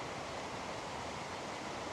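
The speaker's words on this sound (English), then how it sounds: "This noise you're hearing is a raging river flowing right beside us." A raging river rushes right beside a resting spot high in the Flåm Valley near Myrdal, Norway: a steady, loud, broadband roar of white water, constant and close, with no voices over it.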